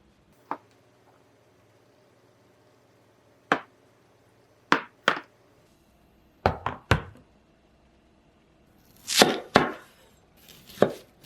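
Knife chopping onion into small pieces on a cutting board in a home kitchen, heard as sharp, close knocks: single cuts spaced apart at first, then quicker clustered bursts of chopping, with no talking.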